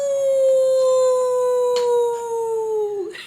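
A human voice imitates a wolf howl, one long steady drawn-out tone held for about three seconds and sliding down at the end, loud and close with no other sound.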